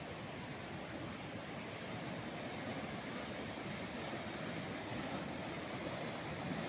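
Sundaragada waterfall pours in a constant, even rush of water, a dense hiss with no breaks, moderately close and with no one talking.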